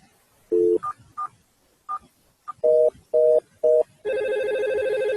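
A series of short touch-tone beeps as a number is dialed, followed by a steady ringing tone on the line; no voices.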